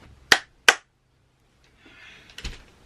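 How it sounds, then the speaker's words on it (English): Two sharp, close hand claps a fraction of a second apart, loud and dry, then quiet with a faint rustle and a soft knock near the end. "The clap was for editing later."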